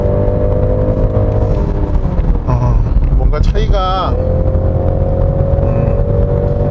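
A 2021 BMW 330e M Sport engine roars steadily up close in sport mode with extra boost on a winding road, with heavy wind and road noise, while someone talks briefly over it.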